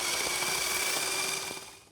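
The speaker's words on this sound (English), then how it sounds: "if we get this electric drill, we can get the bike wheel spinning" An electric drill spins a bike wheel up to speed, giving a steady high whine with a rising hum held for about two seconds, fading slightly at the end; no voices.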